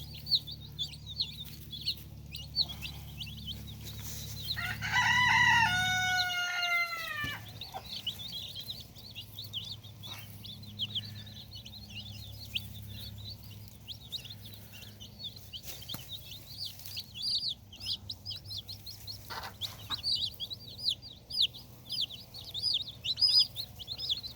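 Chickens on a farm on a hot day keep up a steady clucking and peeping, with one rooster crow rising near the start over a low background hum.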